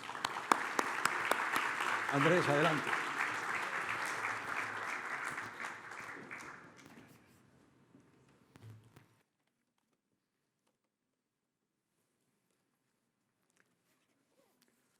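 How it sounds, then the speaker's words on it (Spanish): Audience applause welcoming economist Andrés Velasco to the stage at a pension funds congress in Colombia, a dense round of clapping that fades over about eight seconds, with a voice speaking briefly over it before silence. "recibamos a Andrés Velasco con un gran aplauso"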